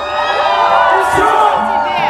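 A concert crowd at a KFC battle event cheers and shouts loudly and continuously, a sustained roar of voices and whoops from many people.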